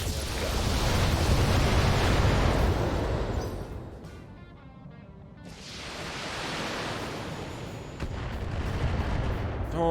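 Heavy weapons fire booms and rumbles in the BattleTech video game, a dense roar that fades briefly midway and then surges back, with no talk over it.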